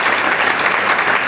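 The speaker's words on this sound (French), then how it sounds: "Alors acclamez pour vous-même." A congregation at a church worship service claps loudly and continuously, a dense, close wash of applause with no break.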